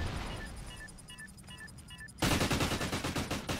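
Rapid gunfire in a shooter game in Search and Destroy mode: quiet shots at first, then a loud close burst of quick rhythmic automatic fire in the second half.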